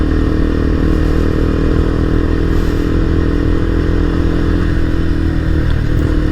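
A single-cylinder motorcycle engine lugs along at very low speed and pulls away in third gear, a steady loud thump with scraping clatter, continuous and alone throughout.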